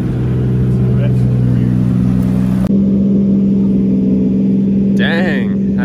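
A Lexus GX470 running a Toyota 1J engine with a dog box drones loudly at close range, a steady engine note with a brief shift partway through, and people talking over it.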